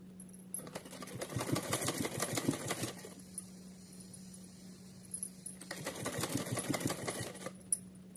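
A sewing machine stitches fabric for a small Kanha ji outfit in two steady bursts of rapid, close mechanical chatter, with a brief pause between them and a low motor hum running throughout.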